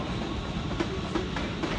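A train passes through Crewe station, a steady loud rumble of rail noise with faint clickety-clack of wheels over the joints running throughout.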